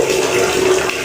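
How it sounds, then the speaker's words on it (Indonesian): Water gushes steadily from an opened bathroom tap, a loud, close, unbroken rushing flow lasting about a second. "terdengar suara keran terbuka"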